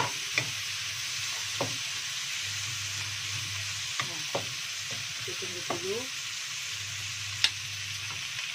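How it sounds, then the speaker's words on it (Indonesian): Green tomatoes are tipped into a hot pan of frying chillies and stirred, giving a faint steady sizzle broken by sharp scrapes and clinks from the spoon against the pan. "Tomat hijaunya sekalian dituangkan."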